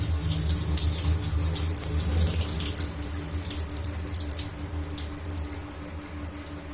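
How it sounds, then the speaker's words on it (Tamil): Boiled pasta being drained, a continuous rush of water pouring and splashing into a sink, loud and steady for several seconds before easing slightly toward the end. "இப்போ பாஸ்தாவை வடிச்சுக்கலாம்."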